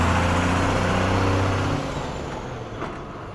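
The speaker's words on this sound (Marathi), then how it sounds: "सकाळची पहिली पुण्याकडे जाणारी 5:30 वाजताची विजापूर पुणे पिंपरी चिंचवड बस विजापूर येथून निघते आता" A Vijapur–Pimpri Chinchwad bus pulls away from the bus stand at 5:30 in the morning, its diesel engine rumbling loud and close before the low drone eases and fades slightly as it moves off.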